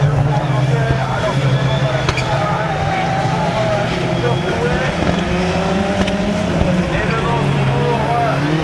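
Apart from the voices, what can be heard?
Renault Clio rallycross car racing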